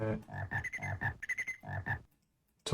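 Frog croaking in the 1988 DOS game King's Quest 4, a run of rhythmic electronic croaks in quick bursts that stops abruptly, followed by near silence and a short sound at the end.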